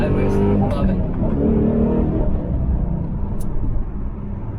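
A Dodge Challenger R/T on drag radials accelerates hard, its engine roaring loud and steady throughout with a dense low rumble, easing only slightly near the end.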